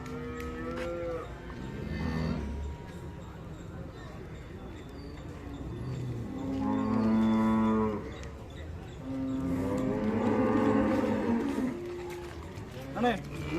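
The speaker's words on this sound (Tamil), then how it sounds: "எல்லாம் பால் மாட்டுக்கு போகுது. கேரளாவுக்கு சந்தைக்கு போயிடும்." Cattle at a busy livestock market in Melapalayam, Tamil Nadu, where dairy cows are traded, giving several drawn-out moos, some loud and near, with people talking throughout.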